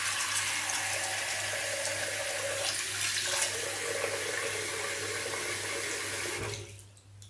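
Water runs steadily from a tap into a sink, a loud continuous splashing rush close by that cuts off near the end.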